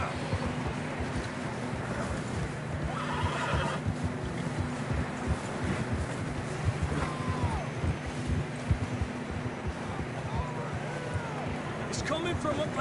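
Horses in Red Dead Redemption 2 snorting and whinnying amid wind and hoof movement on a mountain trail, faint calls scattered over a steady windy bed, with character dialogue throughout.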